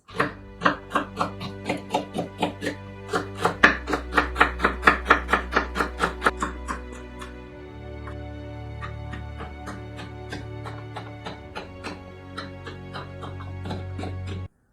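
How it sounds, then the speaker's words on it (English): A knife chops spring onion into small pieces on a cutting board for Korean black bean noodle sauce, making a rapid run of sharp, close, evenly spaced taps, loud at first and then softer and sparser. "Let's cut our vegetables. Spring onion. Let's make it small pieces."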